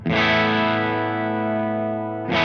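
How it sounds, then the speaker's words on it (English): An electric guitar sustains a chord through a distortion pedal switched on with its gain turned fully down, giving a loud, steady, lightly driven tone that rings out before a second strum at the very end. "And then this is the pedal on and the gain all the way off."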